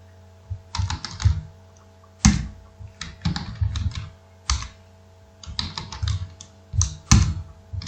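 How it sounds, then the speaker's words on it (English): Keys clatter in quick bursts of typing on a computer keyboard, close by, with brief pauses between runs and a faint steady hum underneath. "So here just I am typing the number."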